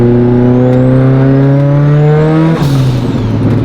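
Mitsubishi Evo 8 with a turbocharged engine revving hard on a dyno, loud rising engine tones with turbo whine climbing, then a sharp break and lower pitch as the revs shift.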